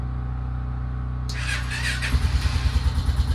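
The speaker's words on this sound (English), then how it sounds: "Give her a little startup here." 2006 Honda Foreman 500 ATV with a tired battery, a steady hum gives way to a starter whir and then the engine catching into a loud, close, pulsing idle, with no talking.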